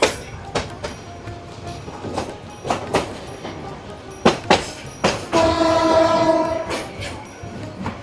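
A passenger train runs through countryside near Jamalpur, Bangladesh, its wheels knocking in irregular clacks over rail joints, with a long horn blast sounding partway through above the rolling rumble.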